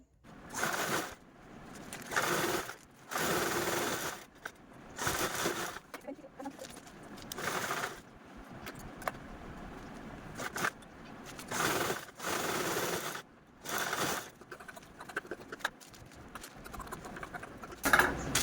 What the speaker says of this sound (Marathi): दोन्ही कडेकडेने स्टिच करून घ्यायचं तर इथे मी अगोदर टाचणी लावून घेते म्हणजे आपल्याला स्टिच करायला सोपं जाईल